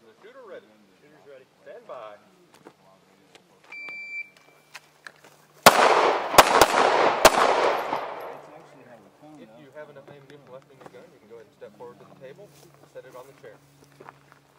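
Pistol shots ring out at an IDPA shooting match, a tight burst of three or four loud, sharp cracks with echoing decay, framed by quieter talk and movement before and after.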